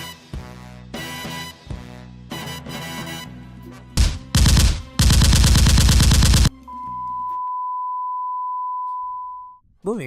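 Movie-style gunfire effect: bursts of loud, sharp shots in quick succession, including a dense rapid-fire volley, followed by a long steady electronic beep tone that stands alone.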